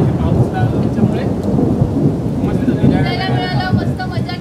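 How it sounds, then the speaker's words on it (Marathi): A village thunderstorm in Vaibhavwadi, Kokan, with a continuous dense wash of heavy rain and deep rolling thunder rumbling underneath, loud and close, with faint chirping rising in the background toward the end. "शेवटच्या दिवशी पाऊस लागला"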